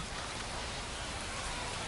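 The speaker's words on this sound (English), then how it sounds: "It's pouring down rain, but he didn't lose his focus." Heavy rain pouring on a ballpark in the MLB 25 baseball video game: a dense, steady hiss of downpour, loud and unbroken throughout, with no voices.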